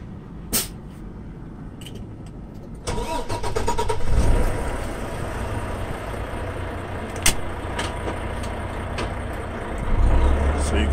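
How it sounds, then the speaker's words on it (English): Truck pulling a pneumatic trailer cranks and starts, then settles into a loud, steady idle near 1,000 RPM, with its rumble close and continuous and a few sharp clicks on top. "you got to start the truck up. It's going to get real loud"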